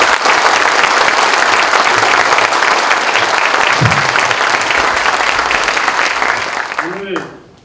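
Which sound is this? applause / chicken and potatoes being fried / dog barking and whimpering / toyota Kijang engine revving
applause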